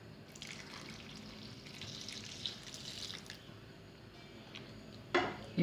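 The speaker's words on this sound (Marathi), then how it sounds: "हे मी गरम पाणी टाकलेलं आहे" Hot water poured into a cooking pot of prawn rice: a quiet, steady trickle and drip, with a couple of sharper metallic knocks near the end and no speech.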